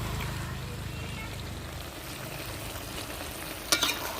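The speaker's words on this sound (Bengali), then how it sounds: "ডিমের সঙ্গে আর সবজির সঙ্গে ভালো করে আমি মিশিয়ে দিচ্ছি" Rui fish roe being stirred with malabar spinach in a hot pan, a continuous sizzle and frying hiss with soft stirring scrapes and a brief clatter near the end.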